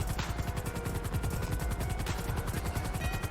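A helicopter in the video game GTA 5 Online beats out a steady, rapid rotor chop that stays loud and close throughout, with a constant engine roar underneath.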